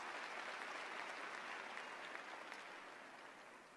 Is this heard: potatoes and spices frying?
no